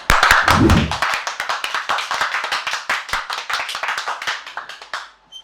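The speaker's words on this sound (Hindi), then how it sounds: "आइए उनका स्वागत करते हैं तालियों के साथ" Welcoming applause on a talk-show set: sharp, irregular hand claps fairly close, with a brief burst of voices at the start, then steady clapping that thins out and stops after about five seconds.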